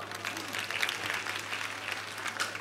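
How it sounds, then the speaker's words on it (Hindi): Soft, steady applause from an audience, fairly distant and even, with a low constant hum underneath. "ताली बजाओ।"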